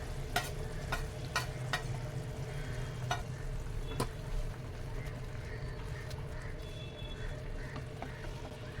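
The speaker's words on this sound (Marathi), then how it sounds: "हा मसाला ह्या पेस्ट बरोबर 5 मिनिटं चांगला परतून घ्यायचा, खमंग तेल सुटेस तोपर्यंत" Masala paste with turmeric, Kashmiri chilli powder, Malvani masala and coriander powder frying in oil in a pan: steady close sizzle with a low hum, punctuated by sharp spoon taps and stirring clicks, no talking.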